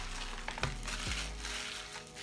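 Plastic wrap being peeled and pulled off a Blu-ray case during an unboxing, a close, crinkly rustle with a couple of sharper crackling snaps early on, heard alone without speech.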